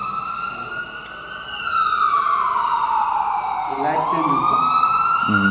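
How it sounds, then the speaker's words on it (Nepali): An emergency vehicle siren wails loud and steady, its tone sliding slowly down, then rising again, with harmonics ringing above it and a low rumble below. "जस्तो अब इमर्जेन्सीको साइरन आयो भने"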